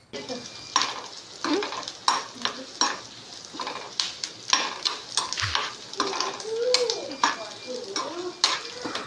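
Two Byadgi chillies fry in a pan, a soft sizzle under regular rhythmic spatula scrapes and clinks against the metal, close and continuous, with no speech.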